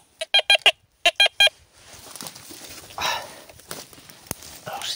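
A metal detector sweeping through brush near castle ruins gives a quick series of sharp electronic beeps, then footsteps and rustling in the undergrowth follow with some quiet talk.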